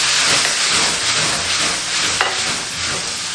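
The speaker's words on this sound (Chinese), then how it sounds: "把排骨的水分差不多炒干，转中小火，再慢慢给它炒" Pork ribs stir-fried in a wok as their moisture cooks off, giving a continuous loud sizzle and hiss with light scraping of the stirring, steady throughout and with no talking.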